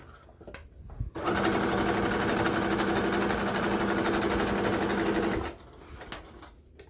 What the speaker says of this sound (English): Just back stitching there.